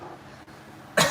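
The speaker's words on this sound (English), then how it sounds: "cough it out" A single person coughs near 1 second in, one short loud burst near the mic after a stretch of quiet room tone.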